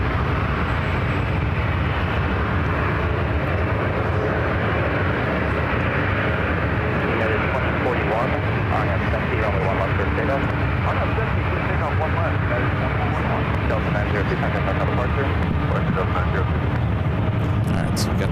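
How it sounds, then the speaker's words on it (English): A Delta Airlines Airbus A319 rolls for takeoff on runway one right at SFO, a loud, sustained engine roar filling the clip with a voice talking over it. "Now rolling on one right, Delta Airlines 902, taking off to Salt Lake City on the A319"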